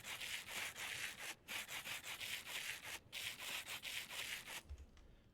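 Rhythmic rasping strokes of sandpaper sanding in a factory-building video game, loud, repeated back-and-forth passes with brief pauses, ending abruptly in near silence.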